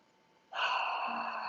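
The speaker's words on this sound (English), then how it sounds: "And just breathing." A single audible breath during slow tai chi practice, a soft, airy exhale that starts abruptly after near silence and holds steady and close for about a second.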